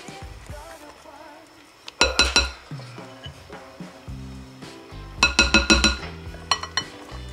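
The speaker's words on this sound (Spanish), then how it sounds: "con el batidor lo va integrando, ya no hace movimientos envolventes" Wire whisk clinking against a bowl while Japanese cheesecake batter is mixed, two bursts of rapid rhythmic metallic taps separated by quieter thuds and clatter, close and fairly loud with no talk.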